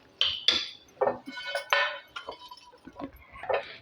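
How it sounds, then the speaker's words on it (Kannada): Fried bitter gourd is transferred onto a plate with a spoon, giving a series of sharp, close clinks and scrapes of metal on dishware, separated by short pauses in a quiet kitchen. "ಇದೆಲ್ಲನೂ ಈ ಥರ ನಾನು ತಟ್ಟೆಗೆ ತಗೋತಾ ಇದ್ದೀನಿ."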